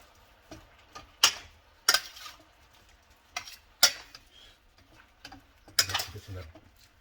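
Steak and shrimp are tossed in garlic butter on a hibachi, with a handful of sharp, separate spatula scrapes and clacks over a faint sizzle, close by and spaced irregularly.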